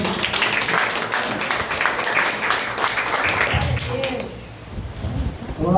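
A church congregation applauds in a steady, dense wash of clapping that carries for several seconds before thinning out, heard from within the room.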